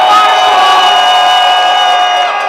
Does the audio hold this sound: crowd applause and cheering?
yes